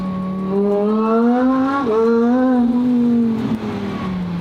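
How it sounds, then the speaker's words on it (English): A supercharged Lamborghini STO engine revs hard, a loud, close tonal howl that climbs, dips sharply at a quick gearshift, then climbs again before easing off. "I'll tell you this, it shifts really fast."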